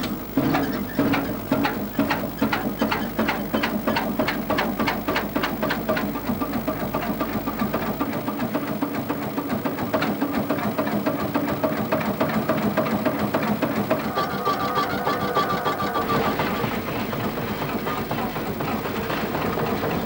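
A 1938 diesel road roller engine runs steadily throughout, a continuous mechanical drone with a loud, even chugging that shifts slightly in tone midway, close and alone with no talk.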